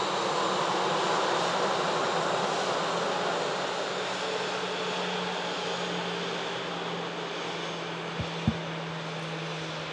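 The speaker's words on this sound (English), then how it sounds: "As the Iceland heads over to the south runway, the EasyJet arrives in from Palma." An EasyJet airliner arriving in from Palma at Manchester Airport gives a steady, broad jet roar that holds for the whole stretch. A low engine drone runs beneath it and the roar fades slightly toward the end, with a brief knock near the close.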